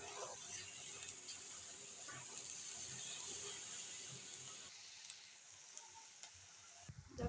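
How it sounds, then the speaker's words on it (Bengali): Dried kachki fish fry in spice paste in a pan, giving a steady, quiet sizzle with occasional stirring scrapes that thins out toward the end. "পেস্টটা ভাজার সাথে সাথে শুটকিগুলো দিয়ে দিব। শুটকিগুলো ভেজে"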